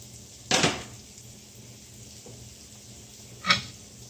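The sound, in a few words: onions thrown into a pan for meal prep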